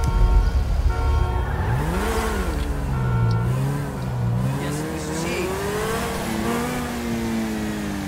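Fast car in the GTA V Online video game roaring along a highway, engine revving and shifting with rising and falling pitch sweeps, loud and continuous with no talk over it.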